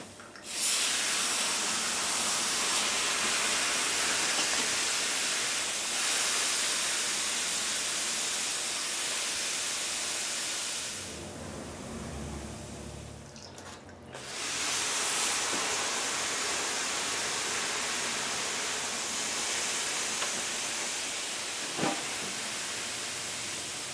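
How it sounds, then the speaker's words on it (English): Steam from an iron pressed onto cloth while bending dreadnought rosewood guitar sides. A loud, steady broadband hiss runs for about ten seconds, drops off briefly, then resumes just as strongly. No talking. "by putting the cloth directly on the iron like that, the steam gets to the underside and really penetrates"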